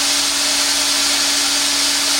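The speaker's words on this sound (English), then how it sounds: "So now let's get this thing welded up." Hot air gun with a speed nozzle running for plastic welding with a welding rod, a loud, steady blowing roar with a constant motor whine, close and unbroken throughout.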